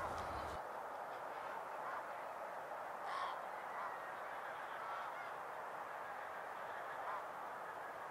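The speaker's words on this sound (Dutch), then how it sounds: "die grauwe ganzen stonden er dus echt met honderden tegelijk" Distant greylag geese, in their hundreds, honking in a broad, continuous chorus against steady background noise, no single call standing out clearly.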